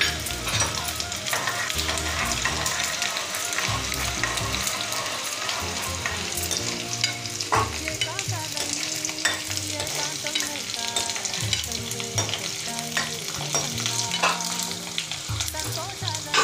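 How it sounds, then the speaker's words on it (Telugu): Dried red chillies tempering in hot oil for tamarind-leaf dal, a continuous loud sizzle with crackles and occasional stirring scrapes, no voices. "పప్పు తాలింపు వేసుకుంది"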